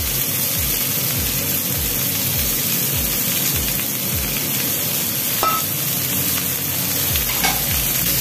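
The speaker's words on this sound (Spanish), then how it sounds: "Con 2 cucharadas de aceite de oliva virgen extra ya caliente, ponemos los champiñones" Mushrooms sizzle and fry in two tablespoons of hot extra virgin olive oil, a loud continuous hiss with rhythmic low scraping strokes as they are stirred, close up and without speech.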